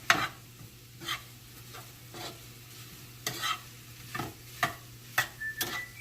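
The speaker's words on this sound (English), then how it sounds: "I'm going to let it simmer for about 10 minutes" Chicken pieces simmering in browning sauce for teriyaki, a quiet steady bubbling sizzle punctuated by regular spoon scrapes and light knocks against the pot, with no voices.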